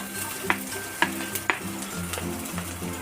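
Finely chopped onions hit a hot frying pan for masala Maggi, giving a sizzle with three sharp utensil knocks early on and then continuous stirring and scraping, close and without talk.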